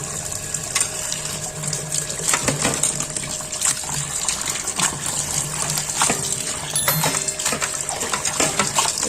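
Goat tripe being washed by hand in water, with splashing, sloshing and running-water gushes alongside clinks and knocks of a container, steady and close throughout with no talking.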